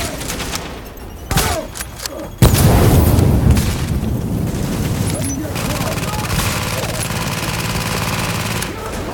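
Turret gunfire in The Division erupts in loud, sustained bursts of rapid shots with booming impacts, continuing steadily after a sharp onset, with scattered quieter shots beforehand.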